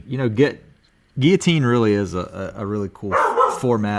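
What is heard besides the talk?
dog barking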